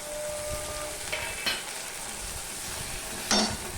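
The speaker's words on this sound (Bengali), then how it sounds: "পেঁয়াজটা লাল লাল হয়ে ভাজা হয়ে গেছে পেঁয়াজ রসুনটা দেখতেই পাচ্ছ এরকম লাল লাল করেই ভাজতে হবে" Onion and garlic fry in a pan with ginger paste, giving a steady close sizzle with occasional scrapes and clinks of a spoon stirring against the pan.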